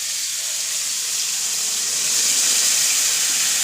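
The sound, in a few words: water poured into a cooking pan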